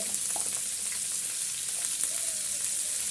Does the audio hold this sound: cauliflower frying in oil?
yes